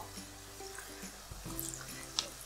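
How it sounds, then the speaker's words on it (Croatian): Potato croquettes frying one by one in a pan of plentiful, very hot oil, giving a faint, steady sizzle and soft bubbling throughout, low in level with a few light clinks. "Idemo ih pržiti."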